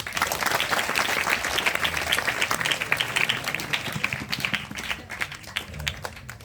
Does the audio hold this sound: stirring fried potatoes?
no